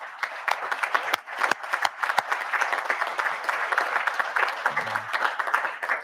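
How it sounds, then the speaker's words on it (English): A hearing room audience applauds youth livestock exhibitors at a House agriculture subcommittee session, with steady, moderately loud clapping from a modest crowd and individual claps standing out, plus a brief low voice near the end. "please stand up so we can give you a round of applause"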